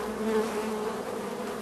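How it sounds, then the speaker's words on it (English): Honey bees buzz steadily inside a hive, a close, continuous hum with a wavering pitch that holds for the whole stretch with no voices. "Look, LeVar, over here you can see a bee feeding one of the larvae"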